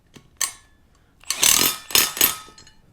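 A lock nut goes onto a 3/8 by 1 3/4 inch bolt mounting a 4.5-inch cable pulley, heard as a few sharp metallic clicks and ratcheting bursts close by, alone without speech.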